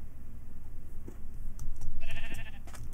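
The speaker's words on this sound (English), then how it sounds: "Look like mountain goats up here." Mountain goat in Minecraft giving a short bleat near the end over a low rumbling background, faint thumps around it, no speech.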